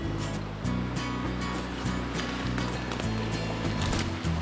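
River flowing beside a wooded winter hiking path, a continuous close rush of water with low rumbling undertones and steady broadband noise, no talk.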